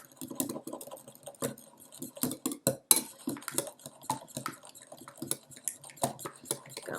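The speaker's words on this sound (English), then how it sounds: "we're going to take the whisk and we are going to stir in the egg and the cinnamon together" A whisk beats egg and cinnamon together in a bowl for French toast, producing quick, close, irregular clinks and taps against the bowl.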